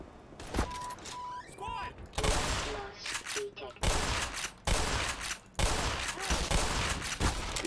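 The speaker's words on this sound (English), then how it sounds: "My guns aren't blazing enough." Gunfire in a first-person shooter video game: loud bursts of shots come in several volleys, some of them rapid automatic fire, with short pauses between them.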